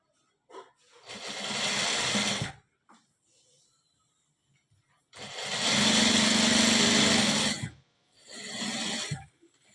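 Sewing machine stitching a cross belt blouse, running in three loud bursts of steady mechanical whirring with quiet pauses between them.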